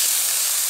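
Green mango pieces hitting hot mustard oil with dried chilli and panch phoron, giving a loud, sudden, continuous steamy hiss that stays close and steady through the brief moment.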